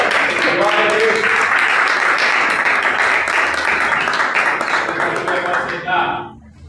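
A church congregation applauds during a Portuguese-language service, a dense, steady wash of clapping that carries on under voices and then fades away at the very end.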